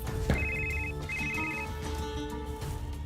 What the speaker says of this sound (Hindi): मेरी बीबी का फोन है